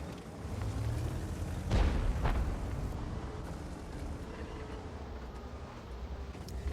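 A tank gun fires once in a World of Tanks battle, a deep muffled boom with a quick second thud, set against a constant low rumble of battle ambience.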